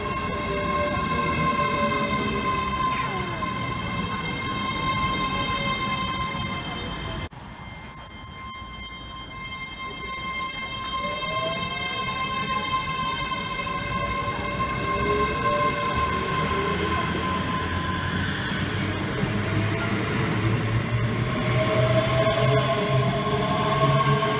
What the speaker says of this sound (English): This is a train that can take us all the way.